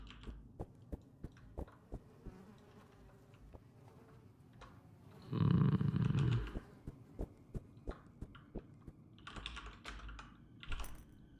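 Computer keyboard typing while playing the horror game Blood Typer, faint, irregular single keystrokes spread across the span, with a louder burst of game noise midway.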